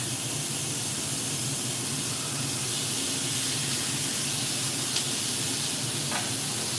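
A steak sizzles in a hot pan with a steady, even hiss that lasts throughout and a faint tick or two, with no voices.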